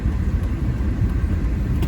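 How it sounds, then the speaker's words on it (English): Commute traffic rolls along the main street of Columbus, Montana, a continuous low rumble of passing cars and engines, fairly close and steady throughout. "Looks like we're having quite a bit of commute traffic."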